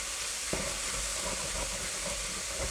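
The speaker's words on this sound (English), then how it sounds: "I'm going to deglaze some of this here first, a little red wine vinegar" Red wine vinegar hitting a hot pan to deglaze it, a loud, steady sizzle and hiss that fills the space, with a brief scrape near the start and no speech.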